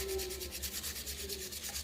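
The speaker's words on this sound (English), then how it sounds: "A little bit more sanding." Steady back-and-forth sanding of a small carved wooden angel ornament, a close, even rhythmic rasping rub that continues throughout without talk.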